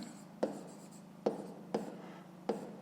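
Pen strokes on paper while a fifth-grade math solution is written out: four sharp scratchy taps spaced evenly over a quiet, faint background hum, close and alone.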